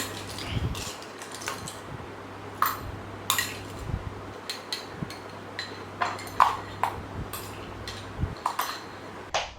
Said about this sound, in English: Okay, so we'll just add the ice inside this.